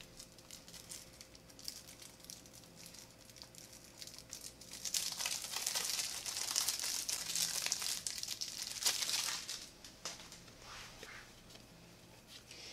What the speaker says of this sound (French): je vais ouvrir le paquet de cartes